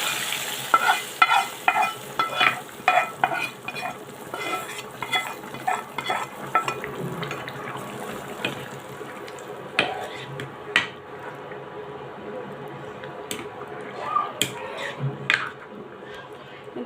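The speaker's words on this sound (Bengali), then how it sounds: "নামিয়ে আবার তরকারিটা বসিয়ে দিছি এবার বাগারটা দিয়ে দিলাম" Tempering of cumin seeds (baghar) poured into a simmering curry, bursts of sizzling hiss mixed with repeated sharp clinks and scrapes of a spoon against the pot, rising and falling in short clusters.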